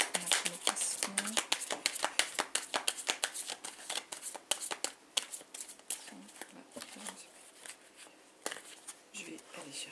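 Tarot cards being shuffled by hand, a dense run of rapid crisp riffles and slaps close to the microphone, continuous for the whole stretch with only brief pauses.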